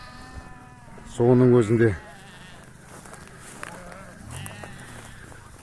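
A lamb-bearing ewe in a village flock gives one loud, close bleat lasting under a second, followed by quieter rural ambience with insects and a voice speaking.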